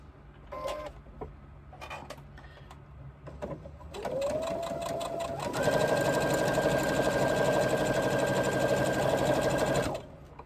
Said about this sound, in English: baste the bottom of that pocket in place. Now basting is a very close seam around the edge.